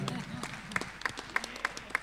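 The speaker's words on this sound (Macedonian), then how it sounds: "Аплауз за водителите." Live audience at a Macedonian show finale clapping for the hosts, a sparse run of distinct hand claps with a voice speaking over the start.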